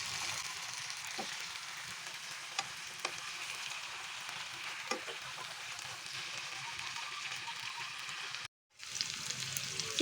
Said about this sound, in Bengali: চিকেনগুলো প্রায় ভাজা হয়ে গিয়েছে